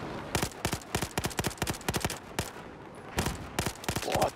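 Battlefield 4 gameplay gunfire rattles in rapid bursts of evenly spaced sharp shots, with a brief pause before another burst resumes.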